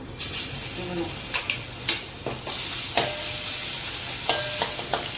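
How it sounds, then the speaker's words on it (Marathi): Ginger garlic paste spits in hot oil in a pan, a close crackling sizzle broken by sharp pops and scraping stirs, with a voice talking quietly under it. "आता टाकूया अद्रक लसणाची पेस्ट अद्रक लसणाची पेस्ट टाकू"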